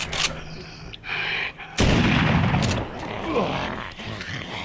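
A shotgun fires in The Walking Dead: Saints & Sinners, one sharp loud blast followed by a thick, lingering rumble. Smaller impacts and clatter come before and after it, and a voice is heard in the scene.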